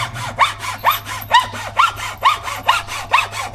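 Rhythmic rasping strokes of a hand saw biting into wood, about eight even pulls, close up and clear.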